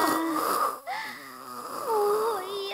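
A person snores loudly and close in a Persona 4 Golden scene, one long rasping breath after another under a high steady tone.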